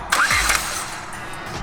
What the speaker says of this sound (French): Donc là il va mettre un coup de démarreur pour envoyer un peu d'essence.